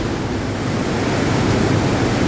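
An underground waterfall rushing through rocks at high speed, a dense, steady roar of water with no voices over it.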